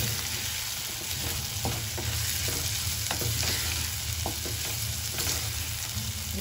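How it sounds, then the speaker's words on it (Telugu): Rice is stirred into a spiced vegetable mixture with coriander powder in a new clay pot for vegetable biryani, producing a steady close sizzle with scraping stirring strokes throughout. "ఫస్ట్ రైస్ వేసి ఒకసారి కలిపేసుకున్నాం"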